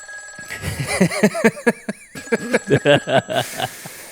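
A telephone rings with a steady, continuous electronic tone throughout, under several people talking animatedly close by.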